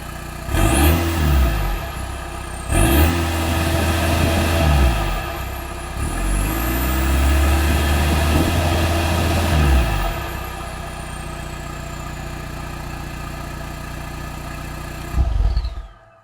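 A VW TDI diesel with a new downpipe exhaust, recorded close at the tailpipe, idles steadily with a deep rumble and is revved hard several times, each rev climbing and falling back to idle.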